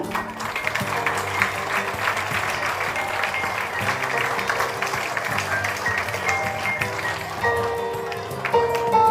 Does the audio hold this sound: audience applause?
yes